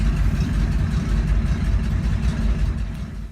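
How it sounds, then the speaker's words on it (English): The rebuilt engine of a 1963 Chevrolet Bel Air idles with a deep rumble and a throaty, aggressive exhaust burble, loud and close, steady throughout. "I wanted to show off the hard work that I put into rebuilding my motor"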